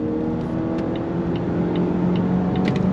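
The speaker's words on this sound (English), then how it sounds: "we're gonna go on throttle. On throttle, here we go. Nice shifts from that 8-speed automatic" Steady mid-pitched engine drone from inside a 2025 Volvo XC60 accelerating under throttle with its 8-speed automatic, a smooth continuous hum with faint tonal shifts, loud and close in the cabin.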